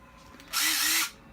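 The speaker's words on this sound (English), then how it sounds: "That's just the impact gun doing its impacting job of tightening it in" A battery impact gun whirs in a single short, loud burst, driving a screw into wood during an RV fireplace install, with quiet room tone around it.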